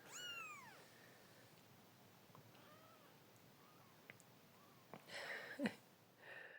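Tiny kittens mew in high, thin cries, several short calls close by in a quiet room, followed by a louder burst of rustling and squeaky meows near the end.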